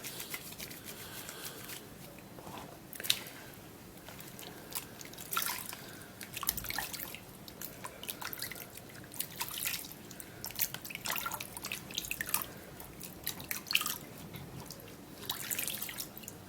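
Hands being washed under running water, soft splashing and dripping with uneven small splats and trickles, quiet and close, no voices.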